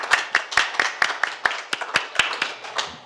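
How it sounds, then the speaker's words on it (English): Scattered hand clapping from a small group at a school district governing board meeting, honoring committee members, with about a dozen distinct sharp claps spread irregularly over a few seconds. "So if we could give them one more round of applause for all their work."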